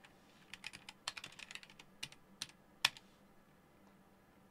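Mechanical keyboard with red or brown switches typed on in quick irregular bursts of crisp clicks, close and fairly quiet, with a few sharper key strikes and no talk.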